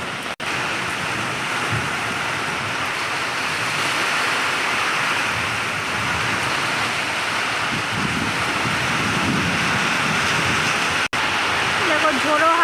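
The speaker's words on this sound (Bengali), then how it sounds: "আর বৃষ্টির জলের ফোঁটাটা পড়ছে, আরও দেখতে ভালো লাগছে।" Rain falls steadily on plants and a flowering tree during a windy shower, a dense, even wash of patter that stays constant for the whole stretch, with faint speech beneath it.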